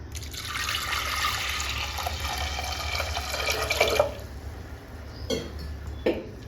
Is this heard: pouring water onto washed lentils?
yes